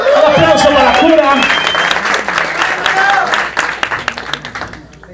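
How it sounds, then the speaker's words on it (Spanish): A crowd at a locking dance battle breaks into loud applause and cheers for a competitor, with an announcer's voice over the start, then a dense patter that thins out toward the end. "Un aplauso para Cura."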